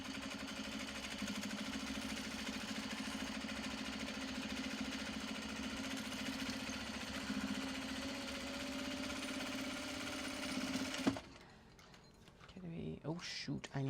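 A sewing machine runs continuously for about eleven seconds while stitching straight lines on a mini traveller sling, a steady rapid mechanical hum, then stops abruptly, leaving quieter handling noises and a voice.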